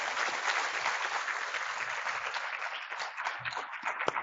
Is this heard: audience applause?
yes